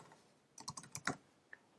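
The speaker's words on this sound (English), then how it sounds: "clicking Enter on your keyboard, and then typing a new name," Quick run of clicks from a computer keyboard being typed on, ending in a single firmer key press like Enter, close and fairly quiet with no talking.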